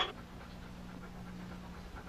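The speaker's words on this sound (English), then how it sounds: "Wow, he's quite a dog." A dog pants steadily and rhythmically close by, quick repeated breaths over a low hum with no talking, set in a 1960s forest-ranger scene.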